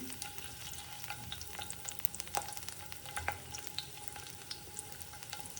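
Garlic, ginger and shallots frying in hot oil for a Kerala kadachakka curry give a soft, continuous crackling sizzle with scattered sharper pops and light stirring, fairly quiet and close.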